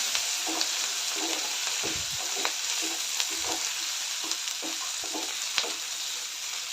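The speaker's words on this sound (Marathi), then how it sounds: "आलं लसूण घालून एक दोन मिनटं परतून घेऊया" Ginger, garlic, onion and tomato sizzle steadily in a pan for a mixed vegetable curry, with a continuous frying hiss broken by repeated scraping stirs at a fairly regular pace.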